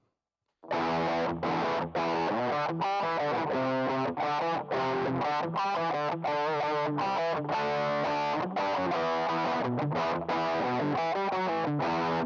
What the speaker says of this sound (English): here's with the turbo distortion